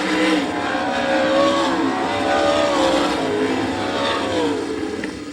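Sprint race cars on a dirt track near the end of a heat race at the All Star Circuit of Champions Winternationals in Gibsonton, Florida, making a loud, continuous high-pitched engine howl that rises and falls, then fades slightly.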